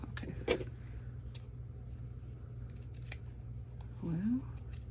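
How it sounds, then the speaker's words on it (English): Scissors snip through a length of ribbon for a junk-journal craft project, giving a quick close cut over a steady background hum, with a soft voice briefly heard. "these are my gummed up scissors"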